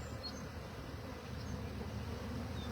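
A honeybee swarm on a tree with branches in its middle hums in a dense, steady drone close by, the buzzing holding level and unbroken throughout with no voices.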